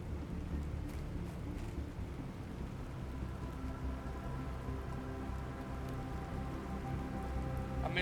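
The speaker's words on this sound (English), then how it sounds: "Oh, it's raining." Steady rain in the survival crafting game Planet Crafter, a dense continuous wash of falling drops with low rumbling undertones like distant thunder, even and fairly loud throughout with no talking.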